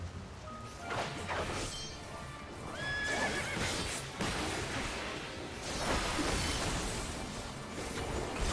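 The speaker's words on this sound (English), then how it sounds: "Water horse!" A water horse creature in the video game Final Fantasy XIV whinnies amid clip-clopping hooves and whooshing effects, layered with game sounds and a brief chime, continuous and fairly full.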